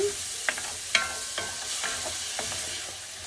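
Garlic, about six cloves, and onions fry in butter in a pan for melting cabbage, producing a soft steady sizzle punctuated by several sharp clicks and taps of stirring, with no talking.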